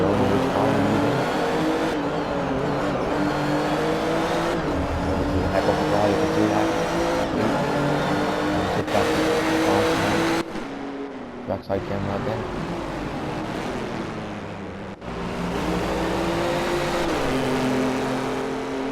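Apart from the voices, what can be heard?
race car engine in a racing video game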